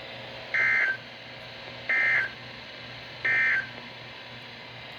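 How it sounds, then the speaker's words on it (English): A NOAA weather radio warning alarm tone test: three steady, loud electronic tone bursts, each under a second, evenly spaced over a constant background hiss. "the National Weather Service has just activated the public warning alarm tone in a test of the"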